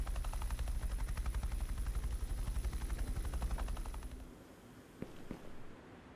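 A helicopter setting down on a flat spot near a house, its rotor chopping loudly and steadily before the engine noise drops away, leaving faint knocks and rustling.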